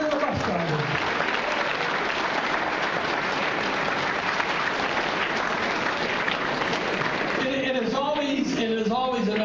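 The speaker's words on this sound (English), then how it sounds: "how about we give a round of applause to the van and the bus drivers?" A breakfast audience gives a steady round of applause for the van and bus drivers, broad continuous clapping throughout, with a voice starting to speak over it near the end.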